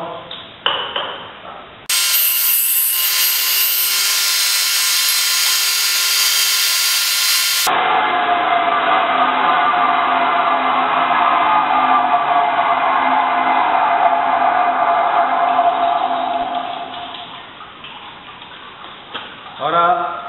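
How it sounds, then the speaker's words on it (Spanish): Stone turning on a lathe, driven by a screw head, gives a steady bright ringing whine for most of the stretch and fades near the end. "la cabeza del tornillo nos va a hacer de arrastre del torno"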